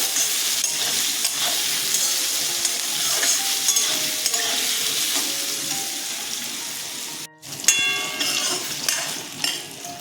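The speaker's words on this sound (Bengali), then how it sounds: "একটু হলুদ দিয়ে দিলাম একটু নুন দিয়ে দিলাম ভেজে নেব ভালো করে" Banana stem frying in a pan with turmeric and salt, a steady bright sizzle with scraping stirring throughout, briefly cut off near the end before the sizzling resumes.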